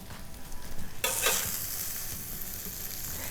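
Eggnog French toast fries in a pan turned down to about 300, with a soft sizzle that suddenly swells into a louder, steady bright crackle and holds for the rest.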